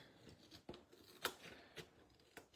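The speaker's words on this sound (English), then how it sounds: "I'm using my scissors." Scissors trimming scrapbook paper at a craft table, a few sparse crisp snips spaced apart, close but quiet against a soft background hiss.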